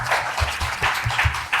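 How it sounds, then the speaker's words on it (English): An audience claps in a brief, dense burst of applause that is steady and fairly loud throughout. "So applause for you."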